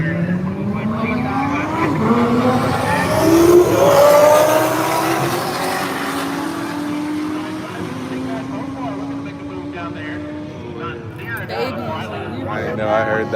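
Race cars such as a McLaren and a Lamborghini roar past on a track, engine pitch sweeping up and down as they pass, with a broad rushing noise and voices talking over it.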